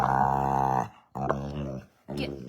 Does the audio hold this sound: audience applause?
no